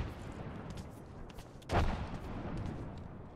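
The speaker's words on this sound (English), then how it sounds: "Throwing a frag." A frag grenade goes off in Apex Legends as one low, booming blast that swells briefly and fades into a rumbling tail over quiet background noise.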